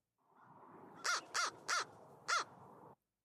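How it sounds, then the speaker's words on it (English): A crow caws four times, harsh and nasal, with the third and fourth calls spaced a bit wider, standing out over quiet background hiss. "crows typically sound like this"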